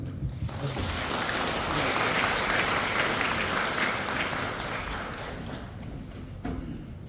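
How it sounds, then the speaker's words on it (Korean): An audience at a residents' briefing on an apartment reconstruction project gives a sustained round of applause, dense clapping that swells and then slowly tapers off. "박수 좀."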